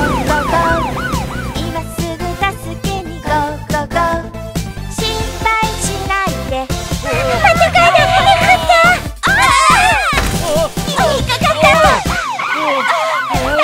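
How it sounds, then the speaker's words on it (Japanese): Cartoon fire engine siren wailing through a bouncy children's song, rising and falling tones mixed into busy music and singing. "消防車出動だ、ゴーゴーゴー、今すぐ助けにゴーゴーゴ"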